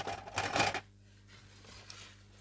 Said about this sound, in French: Hop, les ciseaux.